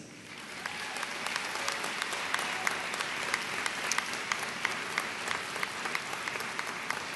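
An audience at a 2011 DMU commencement ceremony applauds the faculty seated in the front rows, steady dense clapping from a large crowd, fairly distant and reverberant, with a few sharper individual claps standing out throughout.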